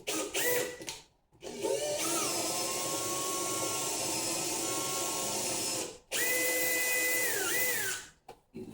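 A power drill bores a hole through the center of an upper cabinet, whining steadily in long runs with short pauses and pitch dips as the bit bites, close and fairly loud with no talk.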